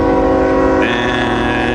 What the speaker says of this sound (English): this is an eastbound manifest after doing a crew change here, slowly making its way towards me